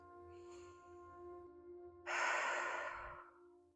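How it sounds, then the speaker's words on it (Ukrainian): A slow, deep breath drawn in and let out through the mouth during a short yoga practice, a soft hushed inhale followed by a louder, breathy exhale that fades out, close and alone with a faint steady hum beneath. "Робимо глибокий вдих, видих. І ще раз вдих і видих через рот."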